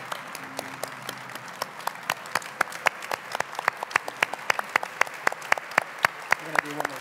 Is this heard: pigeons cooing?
no